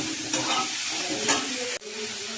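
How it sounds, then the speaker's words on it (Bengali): Salted sour mango pieces fry in a pan for pickle, a steady close sizzle with a few scraping stirs and a sharp knock of the utensil near the end, no talk. "আমগুলো একটু ভাজা করে নিয়ে"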